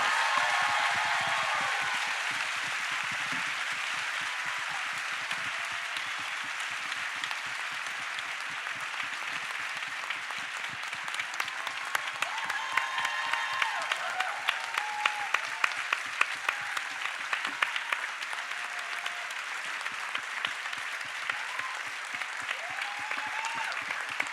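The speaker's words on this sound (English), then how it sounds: "how about a big round of applause for the cast and creators?" A crowd at a Tribeca farewell event gives a long, sustained round of applause for the cast and creators of The Good Wife. The clapping is heard from a moderate distance and keeps an even, continuous roar throughout.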